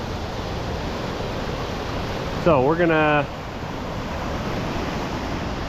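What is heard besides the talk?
waterfall by a lake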